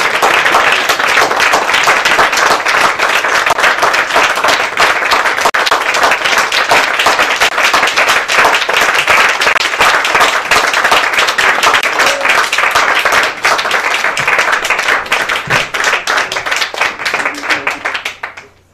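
A church congregation claps loudly and continuously at a service, with dense applause that fades out at the end and a few voices faintly underneath.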